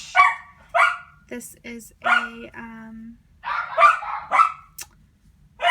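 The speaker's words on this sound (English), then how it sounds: "My dogs are barking." Several dogs barking indoors in a craft room, a string of sharp yips and barks with a whimper, loud and close, interrupted by someone talking.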